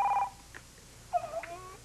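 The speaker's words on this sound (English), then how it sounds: "Oh, no, wait, the phone." A landline telephone rings in a 1999 soap opera scene, with two short electronic ring bursts at moderate volume, one at the very start and another near the end, with a quiet room and no talk in between.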